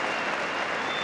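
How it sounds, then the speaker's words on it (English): Football crowd applauding steady clapping at a Burnley league match, a dense continuous roar of many hands, loud and unbroken throughout. "the crowd show their appreciation of clinical Burnley build-up"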